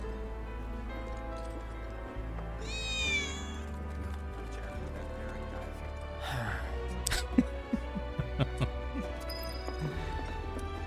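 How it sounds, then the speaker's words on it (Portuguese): Short rising meow from a cat in Final Fantasy VII Remake, heard once over steady game music and ambience, followed later by a few soft clicks and footstep-like taps. "Você avistou um gato, mas ele fugiu."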